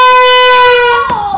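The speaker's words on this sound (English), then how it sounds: "It's an old foghorn." An old ship's foghorn gives one loud, close, sustained blast with a strong steady tone, dipping slightly in pitch as it cuts off after about a second, heard indoors at a museum display.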